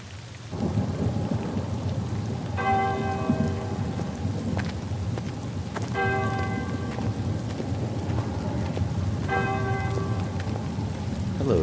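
Steady heavy rain pours down with rumbles of thunder, and a ringing tone sounds three times at even intervals.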